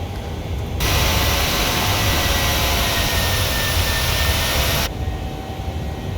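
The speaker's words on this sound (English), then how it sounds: "it's a jet." A simulated jet airliner engine in Microsoft Flight Simulator roars steadily as a loud broadband rush during takeoff from Tallinn. The roar swells abruptly, holds for about four seconds, then drops back to a lower rumble, with no talking.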